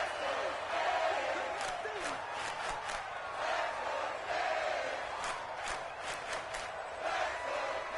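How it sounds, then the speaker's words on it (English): Stadium crowd roars steadily in a Madden NFL 24 football game between Washington and Miami, a dense continuous wash of cheering with brief shouts rising above it, with no talk over it. "this crowd doing their best to make a lot of racket"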